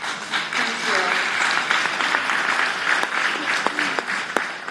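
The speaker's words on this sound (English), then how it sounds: "give a round of applause to you all for your thoughtful questions" A panel audience breaks into sustained applause, a dense patter of many hands clapping close by for several seconds before tapering off.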